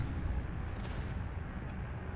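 Dense, rumbling bursts of gunfire and booms in the tower defense game Northend Tower Defense blend into a continuous roar, moderately loud and without pauses.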